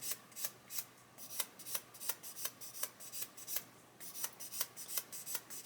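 Repeated rhythmic rasping strokes of 400-grit sandpaper rubbing across a model wheel at about 45 degrees, about two strokes per second, steady and close.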